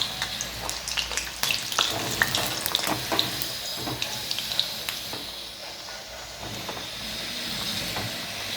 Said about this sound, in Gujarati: આ મૂઠિયાને ફ્રાય કરી લઈશું